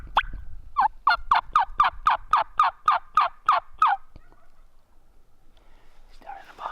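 A wild turkey gobbles, a rapid, evenly paced run of about a dozen loud rattling notes lasting a few seconds. Quiet whispered voices follow near the end.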